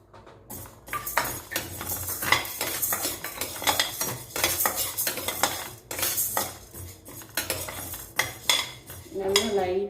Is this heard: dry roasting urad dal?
yes